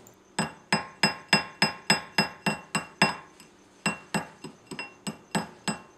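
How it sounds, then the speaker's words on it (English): A heavy hardened-steel sizing mandrel, used in place of a ball-peen hammer, strikes a steel wedding ring in about fourteen sharp, ringing metallic blows, evenly paced with one short pause, close and clear with no talk. "In lieu of a ball-peen hammer, I just used the sizing mandrel, which is actually a pretty heavy piece of hardened steel."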